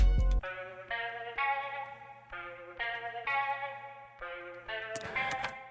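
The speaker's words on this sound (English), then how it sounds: "and some reverb. So now it kind of sounds like a guitar." A plucked, guitar-like synthesized tone plays a slow sequence of sustained notes, processed with EQ and a wash of reverb.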